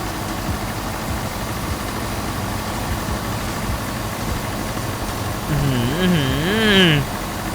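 A tractor engine idles in Farming Simulator 19, a low steady rumble running throughout, joined near the end by a voice that rises and falls over it.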